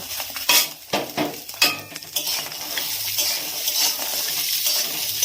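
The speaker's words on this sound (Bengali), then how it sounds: "বাদামগুলোকে হালকা করে ভেজে নেব।" Almonds fry lightly in ghee in a kadai, with a soft sizzle beneath repeated sharp clinks and scrapes of a spoon stirring against the metal pan.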